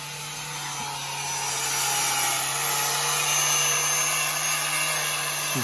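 Power sander working on the log walls of a cabin under construction, a steady, loud motor whine with a constant hum, rising slightly midway and running on without pause.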